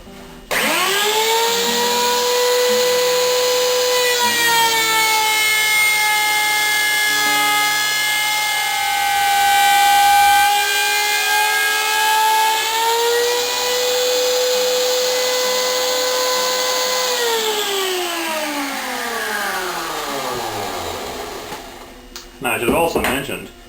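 A table saw blade cuts a truss rod channel into a wooden guitar neck, a loud sustained whine with strong harmonics that holds steady for about seventeen seconds, then falls in pitch as the blade spins down, ending with a few short clunks.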